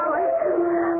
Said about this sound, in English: Sounds like howling.